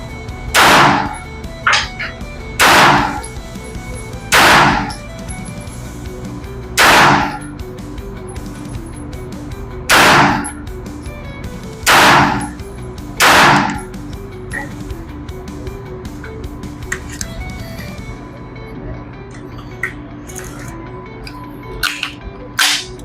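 Seven sharp gunshots from a UTAS UT9-M Mini shotgun ring out at a range, loud and evenly spaced, followed by quieter handling clicks.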